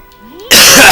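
One sharp, loud cough from a man with a cold, bursting out abruptly after a brief quiet stretch with faint game music underneath.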